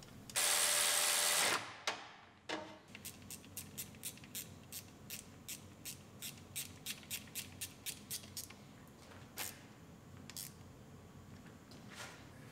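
Bolts run in and tightened down during an engine swap on a Ram ProMaster City, with a loud burst of power-tool whir at the start followed by a steady series of short, sharp ratcheting clicks close by.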